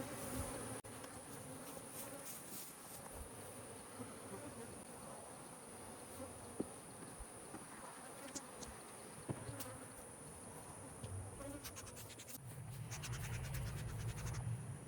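Honeybees hum in a continuous dense buzz during a hive inspection on a farm after splits, close and steady, with scattered scratches and frame scrapes and a brief louder swell near the end.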